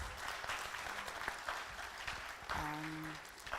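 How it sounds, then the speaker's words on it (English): Round of applause for a panel at a performing arts conference afternoon session, fairly faint and distant clapping with scattered louder claps, a brief voice and tones rising near the end. "Please, let's give this panel a round of applause"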